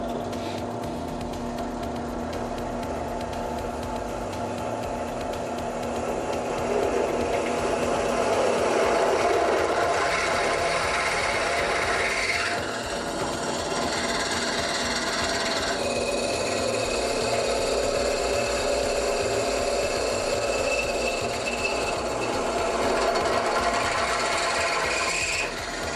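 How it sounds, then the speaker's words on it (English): A steady, whining power drill grinds continuously as it drills a bolt hole, its pitch shifting slightly as it bites, close and fairly loud with no talking. "So go ahead and do your drill."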